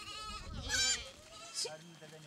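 Goats of Samburu herders bleat in a brief, close call followed by a second shorter cry, with a voice speaking over them.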